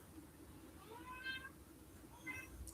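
A cat meows twice in quick succession, faint and somewhat distant, against a low background hum with no talking.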